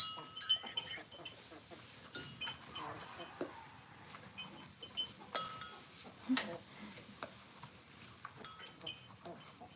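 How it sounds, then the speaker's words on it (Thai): A newborn water buffalo calf on a farm gives short, bleating calls at irregular intervals, mixed with people talking and faint farmyard clinks nearby. "นี่เด็กควายน้อย ควายน้อย เกิดใหม่"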